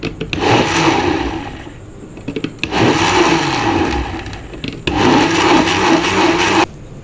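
A kitchen blender grinds semolina into a puree in three loud, close bursts of whirring, each stopping abruptly before the next begins, with no talking.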